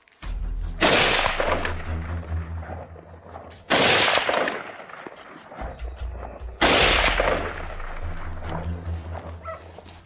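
Three heavy rifle blasts go off during a wild boar hunt, each loud and booming, followed by a long rumbling echo. The shots come roughly three seconds apart, with dogs barking in the background.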